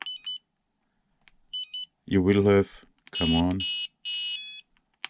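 A Flysky FS-G7P radio transmitter sounds its low-voltage alarm as short, repeated high electronic beeps, nearby and clear. The beeps come in bursts at a steady rhythm, with someone speaking between and over them.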